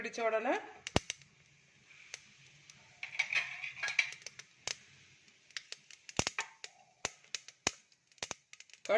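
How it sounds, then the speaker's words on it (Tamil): Mustard seeds and cumin seeds pop and splutter in hot oil, sharp irregular crackles scattered over several seconds, close and fairly quiet. "அதில் கடுகும் ஜீரகம் நல்லா வெடிக்கட்டும்"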